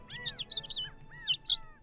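Short bird-like chirps and tweets in the Roblox Bird Simulator game, a quick series of bright, high whistling calls in two bursts, close and clear with no talk over them.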